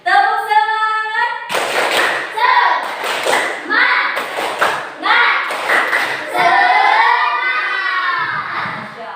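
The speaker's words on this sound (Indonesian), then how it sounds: "Oke, tepuk semangat." Primary school class clapping a rhythmic spirit clap together in a classroom, loud sharp clap bursts and thumps mixed with children's shouting voices, following a teacher's sung cue at the start.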